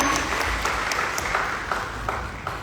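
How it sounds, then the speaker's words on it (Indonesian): A congregation claps at a worship night, a broad wash of dense applause with a few sharper peaks, steady and fairly near for a few seconds with no voices on top. "Kasih tepuk tangan sekali lagi buat Tuhan kita."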